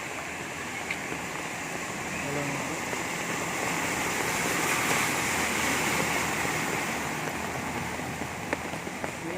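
A bus pushes through deep floodwater on a Kolkata street after an hour of heavy rain, giving a steady broad wash and swish of churned water that swells in the middle and stays continuous, with traffic noise around it.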